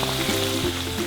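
Mie letek doughnuts frying in hot oil give off a steady, dense sizzle that continues without a break, close by and on its own.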